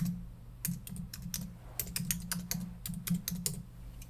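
Quick typing on a computer keyboard while entering text into a Word document, a steady stream of light, close key clicks in irregular bursts with brief pauses and no talking.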